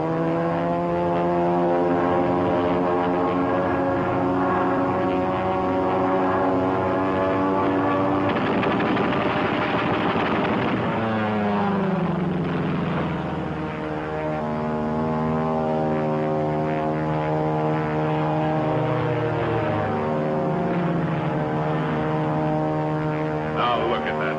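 P-40 fighter aircraft roaring past, a loud sustained engine drone that swells and then drops in pitch as it passes, with a second shifting engine tone following, heard alone without talk.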